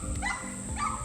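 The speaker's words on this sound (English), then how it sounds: "now there's a fucking dog barking" A dog gives a couple of short barks at a distance, heard outdoors under a steady background hum, with a whiny yip mixed in.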